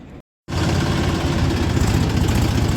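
A tractor engine idles at a sugar mill on a cold morning, a steady close low rumble with a rapid throbbing pulse that starts after a short silence and runs loud and unbroken to the end.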